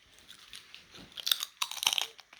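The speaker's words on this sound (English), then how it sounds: "He's showing you the crunch. Yep. Has a crunch." Someone bites into potato chips close to the microphone, a few sharp crunches followed by chewing that grows louder toward the end, with no talking.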